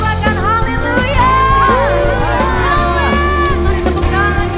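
A church congregation at an Indonesian worship service shouts and cheers together, a loud, dense crowd of raised voices with sustained whoops and yells layered over music throughout.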